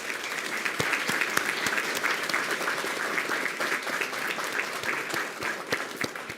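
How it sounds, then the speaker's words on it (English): A room at a Weslaco ISD school board meeting applauds students who were state qualifiers, producing steady, dense clapping from a sizable crowd with sharp individual claps standing out throughout. "Let's give them a round of applause."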